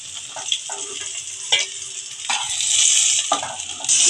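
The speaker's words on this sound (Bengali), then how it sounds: "এইভাবে আমি সবগুলো মাছ ভেজে ফিরে আসছি" Gurjaoli fish frying in hot oil in a home kitchen, a steady crackling sizzle with brief louder spatters and clinks, no voices.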